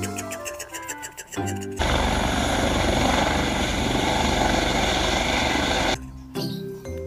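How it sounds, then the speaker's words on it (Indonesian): An orange toy helicopter's motor whirs loudly and steadily for several seconds, starting and stopping abruptly, with brief mechanical clicks before and after. "ada pesawat helikopter. Helikopter warna oranye"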